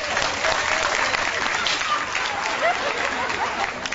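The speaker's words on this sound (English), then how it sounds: "A round of applause." A live audience at a card magic performance gives a round of applause, dense steady clapping that fills the whole stretch at close range with a few scattered voices mixed in.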